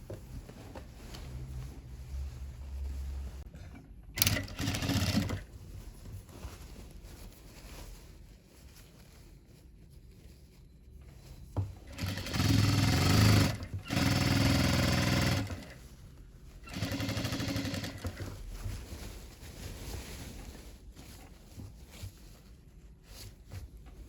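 A sewing machine stitches the side seam of a pattupavadai, a child's silk skirt, in several separate runs of close, steady whirring and mechanical chatter with quiet gaps between them.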